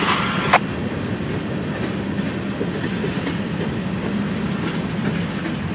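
Florida East Coast Railway freight train 103's cars roll past steadily with a continuous rumbling rattle and faint rhythmic clacking of wheels, no voices.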